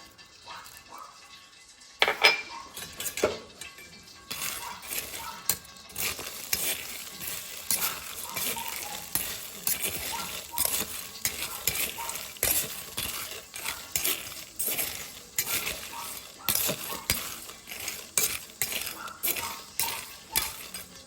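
Garlic sizzling in oil in a pan and being stirred with a utensil, steady frying hiss broken by repeated scraping and metal clinks, cooked at home for snacks to sell in a small store; faint speech in places.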